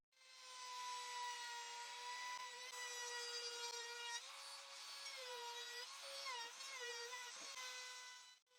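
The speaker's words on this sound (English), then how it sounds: "I'll use the router with this bit to make a 45-degree chamfer, and I'll chamfer all the edges of the item." A wood router cuts a 45-degree chamfer along the edges of a wooden piece, giving a loud, steady high-pitched whine with harmonics that dips and shifts in pitch as the bit bites into the wood, running alone throughout.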